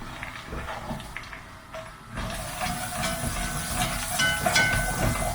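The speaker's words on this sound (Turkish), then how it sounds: "Tereyağını erittim ben. Şimdi hemen ilk önce soğanlarımı kavuruyorum." Onions sautéing in melted butter for chicken soup, a broad steady hiss that swells sharply as they hit the pan and then stays loud and close, with faint crackles and no talk.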